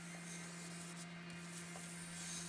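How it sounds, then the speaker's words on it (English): A wooden balance board with walnut inlay is hand-sanded to 120 grit, giving a steady, continuous rubbing scrape that stays even and close throughout, with no voices. "after sanding everything to 120, I finished everything with 2 coats of wipe-on poly"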